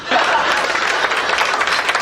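An audience claps in steady, dense applause for a couple of seconds, close and continuous with a faint chuckle mixed in.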